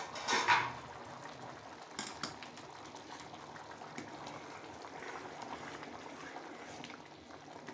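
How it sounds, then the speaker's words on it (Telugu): Restaurant-style curry gravy bubbling in a pot, a soft steady boil and simmer heard quietly and close, with faint clinks near the start. "చూడండి ఎట్లా ఉడుకుతుంది."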